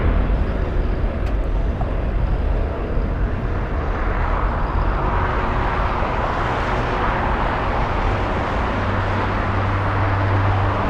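An Austrian Airlines plane roars past at LAX, a loud, continuous broadband engine rush that swells and holds for the whole stretch, heard from a distance across the airfield with no speech.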